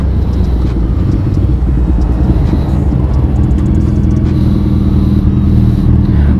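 A Suzuki Hayabusa or Kawasaki ZX14 hyperbike accelerates hard and close, its engine a steady loud rumbling roar with no speech over it.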